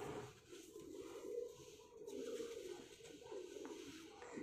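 Pigeons coo softly in a loft in Multan, low murmuring calls rising and falling in gentle waves, fairly faint and unaccompanied by talk.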